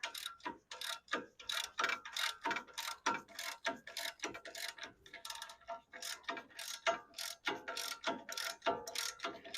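A hand ratchet loosens a bolt on the upper control arm of a Lexus GX470, with rapid bursts of close, crisp clicking in repeated strokes and brief pauses between them.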